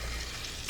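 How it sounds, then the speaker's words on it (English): French toast sticks dipped in a spicy coconut egg batter fry in a hot pan with a steady, close, even sizzle and crackle that holds through a brief moment, with no voices. "So we're going to let these fry"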